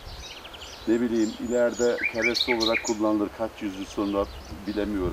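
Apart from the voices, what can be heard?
birds singing in tree branches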